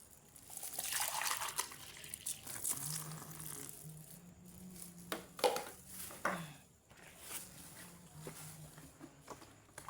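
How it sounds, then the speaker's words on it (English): Two liters of water poured into a thick liquid soap mixture, a splashing, gurgling flow that rises and falls in bursts, with a low hollow tone from the container and occasional knocks; no talking. "let me add 2 liters of water"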